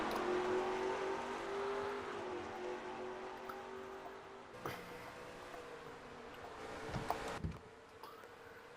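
At Richmond, race trucks accelerate on a restart, a broad engine roar that starts loud and slowly fades and thins as the field pulls away, with a few sharp clicks and knocks near the end.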